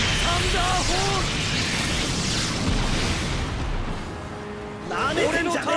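In the Jump Force fighting game, Osiris the Sky Dragon fires a cannon attack: a loud, sustained rumbling blast that roars for several seconds, with a character's shouted voice at the start and again at the end.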